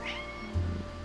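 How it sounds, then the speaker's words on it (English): A cat meows in a video game with a single short, close, clear meow and a brief rising tone, alone with no talk over it. "The cat's meowing at me."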